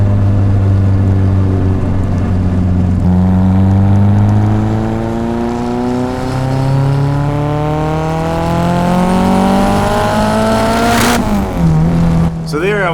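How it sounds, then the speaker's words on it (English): A straight-piped K24 engine in a Cefiro revs at part throttle, climbing steadily in pitch toward high RPM with a raspy, loud, close exhaust tone, then drops off sharply near the end. "I was trying to kind of ride up into the high RPMs with part throttle and not a ton of load"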